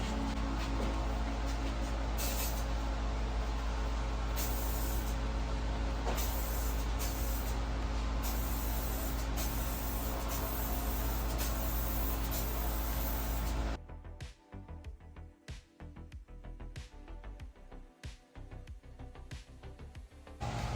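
Spray gun coating a Stratocaster clone guitar body, a steady loud hiss running unbroken for most of the stretch before cutting off, followed by quieter scattered handling noises.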